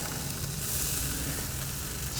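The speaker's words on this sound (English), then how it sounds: "Listen to that sizzle." Pork spare ribs sizzle on a WSM smoker over direct heat, a faint, steady crackling hiss running without a break and with no other sound.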